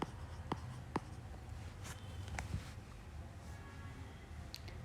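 Pen writing on a board or paper during a maths lesson, quiet scratchy strokes with a few sharp taps, faint and close against a low room background.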